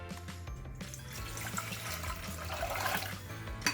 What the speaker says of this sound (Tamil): பாத்திரம் வச்சுட்டு தண்ணி ஆட் பண்ணிங்க